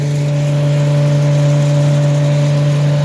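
Twin Airbow paddy rice air-cleaning winnower running steadily, a loud constant motor hum with strong low tonal drone and whirring fan noise, no break over the whole stretch and no talk.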